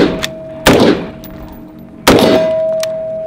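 Two loud gunshots ring off a steel target at a shooting range, each a sharp crack with a bright clang, followed by a lingering metallic ring.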